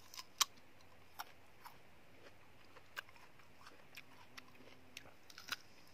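Small crisp bites and crunches of apple dipped in chili salt, a sparse irregular series of sharp clicks up close against a quiet indoor background.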